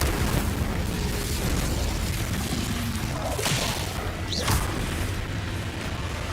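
Incendio fire spell cast in the Hogwarts Legacy video game, a sharp whooshing burst that flares once and fades amid a dense, steady roar of other combat effects.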